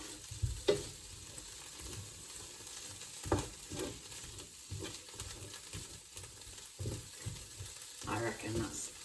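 Black beans being mashed and stirred in a pan, giving soft, uneven squelching thuds and scrapes at a moderate level, with a faint sizzle running beneath.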